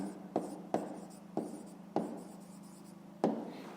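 Pen strokes on a notebook page during a fifth-grade math exercise, five or six short scratchy bursts in a quiet room, close and fairly soft with pauses between them.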